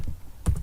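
A couple of quick keystrokes tapped on a computer keyboard, close by and brief.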